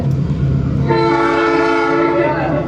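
A train passes close by, its horn sounding in long sustained harmonic blasts over a steady loud rumble of rail noise, with the horn holding for well over a second.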